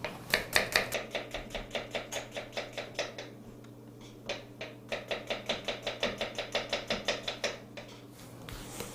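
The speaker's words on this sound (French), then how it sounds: "Le bacon que je coupe comme ceci en lardons" A knife chops bacon into lardons on a board while a tartiflette is prepared: a steady, close run of crisp, rhythmic cuts, with a short pause midway before the quick chopping resumes.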